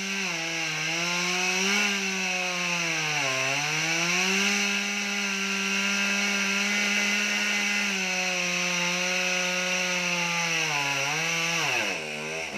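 A chainsaw runs loudly and nonstop, its engine whine rising and dipping in pitch as it bites through a coconut tree trunk.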